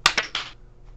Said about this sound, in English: On 1, 2, 3, clap. Everyone just clap.